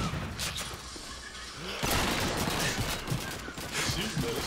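Gunfire in the video game Call of Duty 2, a dense run of shots and bursts with a louder stretch in the second half, heard without speech over a steady battle din.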